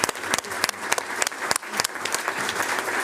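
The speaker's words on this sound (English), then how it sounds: "Please join us with a hearty round of applause for those students and their contributions." Audience at a board of education business meeting claps for students, a small group's applause with distinct sharp individual claps standing out, moderately close and fairly loud.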